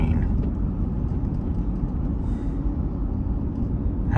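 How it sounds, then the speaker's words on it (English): Napa Valley wine tasting train passing, a heavy low rumble of rolling rail cars that stays loud and steady throughout, with a brief faint higher clatter midway. "Napa Valley wine tasting train."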